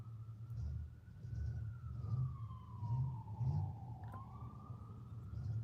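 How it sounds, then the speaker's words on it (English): A police car siren rises and falls as it passes outdoors, the wail sliding down in pitch as it moves away, heard at a moderate distance over a steady low rumble of traffic or wind. "I'm hearing police sirens."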